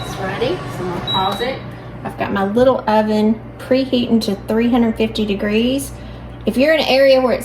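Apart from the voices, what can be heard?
No everyday noise stands out behind the speech.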